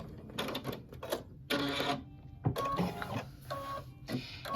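An embroidery machine stitching a Kimberbell Be Mine appliqué design, a close, fast mechanical chatter of needle strokes in short bursts separated by brief pauses, with no speech.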